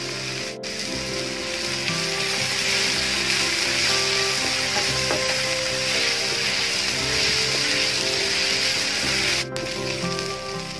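Onions sauté in a pan with ginger, garlic and green chilli paste, a continuous loud close sizzle like rain on a surface, with occasional scraping ticks from stirring and no talking.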